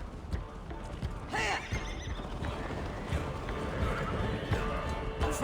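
A horse in Assassin's Creed Valhalla whinnies loudly and its hooves clip-clop at a gallop, over a busy, steady layer of game sound.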